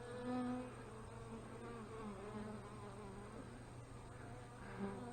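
A healthy honey bee colony buzzes steadily at an open hive during a brood box inspection, a close, continuous drone with individual bees flying past the microphone.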